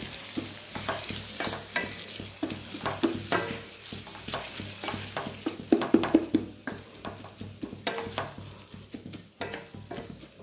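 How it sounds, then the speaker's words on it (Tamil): Tomatoes, onions, turmeric and salt for an egg masala gravy sizzle in a pan while a spoon stirs and scrapes repeatedly, giving uneven bursts of clattering over a continuous frying hiss. "மஞ்சத்தூள் போட்டு நல்லா வணக்கி விடுங்க."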